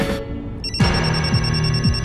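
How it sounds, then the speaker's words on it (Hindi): A phone rings in an indoor drama scene with a steady electronic tone and repeating pulses at an even rhythm, loud and clear with no talking. "किटी का फोन"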